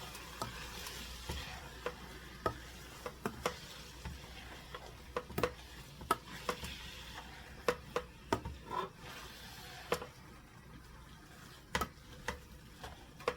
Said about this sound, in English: You fry it until it becomes like brown.